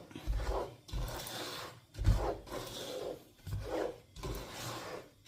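Flour, sugar and oil are stirred in a pan over medium heat, giving rhythmic scraping rubs in regular strokes roughly once a second, close and fairly quiet, with no talk over them.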